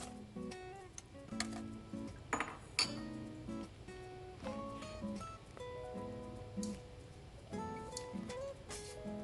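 Chopped onion and carrots go into a roasting pan with meat, producing a series of light clinks, taps and soft thuds of vegetables and utensils against the dish, close and fairly quiet.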